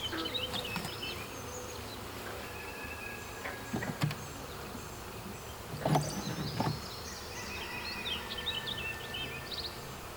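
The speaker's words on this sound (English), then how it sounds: "We'll see if there's any bees inside." Bees from a swarm being checked with a smoker, a soft steady buzzing with passing insect drones and a few close knocks and thumps, the hum fairly faint over the background.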